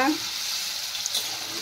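Paneer frying in a pan gives a steady, close hiss of sizzling oil, with a brief stir at the start.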